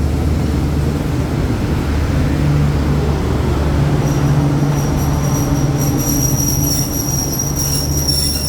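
Rapid train 170, Yala to Krungthep Aphiwat, pulling into Ban Pong station, loud and close, with a continuous low rumble of rolling cars and a high, sustained wheel squeal rising in the second half.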